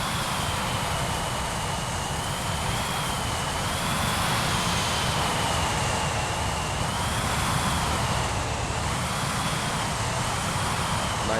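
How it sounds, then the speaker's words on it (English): An airliner in MSFS2024 accelerates down the runway at takeoff thrust, its engines giving a steady, loud, close roar with a high whine over it for the whole stretch, with no talking. "stops, goes to takeoff thrust, and begins the roll"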